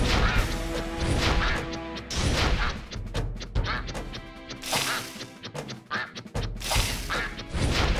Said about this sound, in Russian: Ну хотя бы утка, слышите?